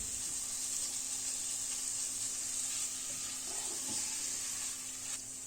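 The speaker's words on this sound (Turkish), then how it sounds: "Kıymamızı da çok kavurmayacağız aynı şekilde" Minced meat frying in a pan for a kıymalı şehriye dish, a steady close sizzle and hiss running throughout with a faint electrical hum beneath and a few soft stirring knocks.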